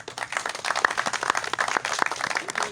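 Clapping from an audience at a rescue-service first aid training certificate ceremony, a brisk irregular patter of several hands that rises and falls slightly, with no voices over it.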